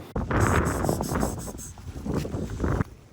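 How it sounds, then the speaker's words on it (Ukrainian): Loud gusting winter wind on a riverbank buffets the microphone in heavy, roaring bursts for a few seconds before cutting off abruptly. "вітер шалений"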